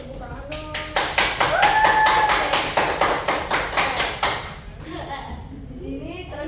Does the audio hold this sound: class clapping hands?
yes